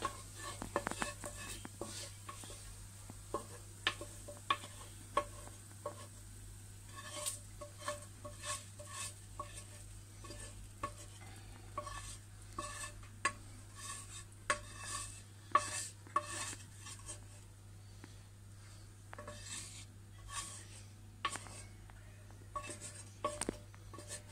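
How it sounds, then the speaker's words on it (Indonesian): Slightly burnt fried meat is stirred into macaroni in a pan, with repeated scraping and clinking of a utensil against the metal over a faint low sizzle and a steady background hum. "nah ini diaduk sedikit sama makaroninya dicampur"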